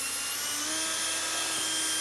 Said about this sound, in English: Again, drilling through both those boards.